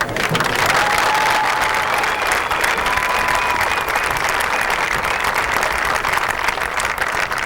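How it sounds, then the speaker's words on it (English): An audience at an athletics complex dedication claps in a strong, steady round of applause that continues throughout. "are the ones who really deserve a huge round of applause."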